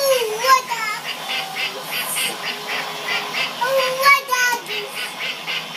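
The Lucky Ducks toy game quacks repeatedly as its ducks spin around, with bright electronic quacks recurring in a steady pattern while voices talk over them.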